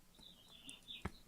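A bird chirps indoors with a few faint, brief high chirps, followed by a short sharp click, all very quiet against a soft room hush.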